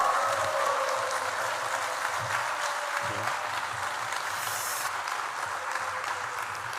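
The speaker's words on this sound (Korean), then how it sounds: "우리 교수님 나오실 때 우리 큰 박수로 함성으로 환영했으면 좋겠습니다" A church audience in Gwangju gives sustained applause to welcome a visiting professor before a parents' lecture, a dense steady wash of clapping that fills the whole stretch without speech.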